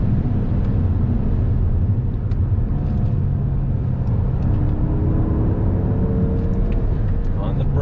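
A 2021 Mazda 3 Turbo hot hatch with aero package drives and brakes, giving a steady low road and engine rumble with tyre noise throughout, heard from inside the cabin.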